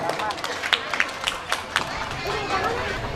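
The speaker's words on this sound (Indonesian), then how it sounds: "Tepuk tangan buat kita semua." A crowd at an evening fundraising gathering in Bali gives a round of applause: scattered, distinct hand claps over busy crowd chatter and talking.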